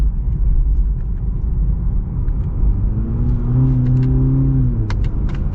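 A 2023 Cadillac CT5-V or CT4-V sports car engine rumbles steadily, then its pitch climbs and drops as it revs through quick paddle-shifted gear changes, loud and close.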